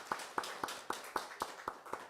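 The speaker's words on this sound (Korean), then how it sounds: "격려하는 의미에서 박수 한번 할까요?" A church congregation claps together for Sunday school children and their parents, about eight evenly spaced sharp hand-clap bursts at moderate distance, with no talk.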